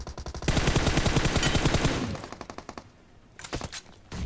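Gunfire in the mobile shooter BGMI: sustained rapid automatic bursts, loud and close, tapering into shorter volleys, then a brief lull before another fast burst.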